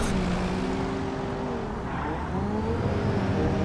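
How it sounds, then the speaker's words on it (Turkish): A Toyota Corolla engine held at full throttle in the BeamNG.drive driving game, a loud continuous droning roar with the pitch climbing and dipping as gears change, no voices over it. "Şu an mesela hep dip gaz gidiyorum ben."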